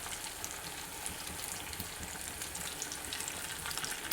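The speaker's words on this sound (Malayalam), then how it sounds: "ആദ്യത്തെ ബാച്ച് ഞാൻ എണ്ണ നന്നായിട്ട് ചൂടായപ്പോൾ ഈ ഓരോന്നായിട്ട് ഇതുപോലെ കറക്കി ഇട്ട് കൊടുക്കണമേ." Beef pieces, leftover Eid meat, fry in hot oil with a loud, continuous dense sizzle and crackle that holds steady throughout, close up and with no talking.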